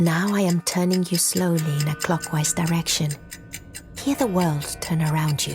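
A clock ticks nearby in the Papa Sangre game world, a steady tick-tock running under a calm voice that talks throughout.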